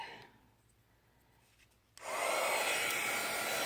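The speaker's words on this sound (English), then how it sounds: "I'm going to take my heat gun. So it's going to get a little bit noisy." A heat gun drying a kitten-themed artist trading card switches on after a quiet moment and blows a loud, steady, close-up roar that continues to the end.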